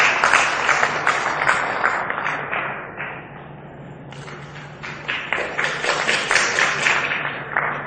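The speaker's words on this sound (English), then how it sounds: "A huge round of applause, please." A conference audience at a global textile congress in Bangkok applauds a panel being welcomed to the stage. The dense, steady clapping dips briefly midway, then swells again and continues to the end, with no talking.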